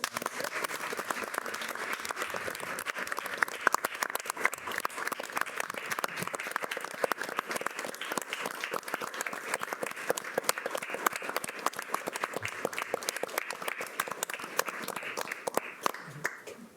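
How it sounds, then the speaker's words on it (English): Sustained applause from an audience at a city council meeting, steady dense clapping lasting the whole stretch with no talking. "just get a round of applause for these two."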